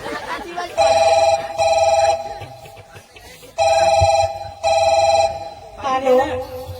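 A telephone rings during a Dangi folk comedy sketch, sounding in loud, close, electronic bursts that come in pairs with short gaps between them, while voices talk underneath.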